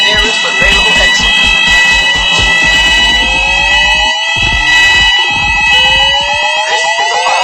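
A shopping mall fire alarm sounds loudly and continuously, a steady electronic tone over a rapid pulsing pattern that stops and restarts, filling the space with no gaps.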